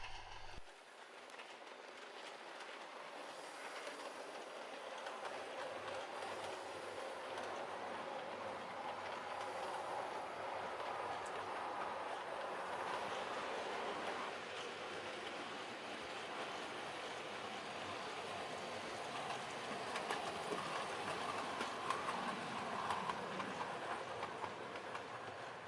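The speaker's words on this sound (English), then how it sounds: "The Pigeon train has a new cartridge, so I thought I'd give it a run around the layout for you." A model train with a new cartridge runs around a model railway layout, a faint, steady rolling rumble with light clickety-clack of wheels over track joints that continues without a break.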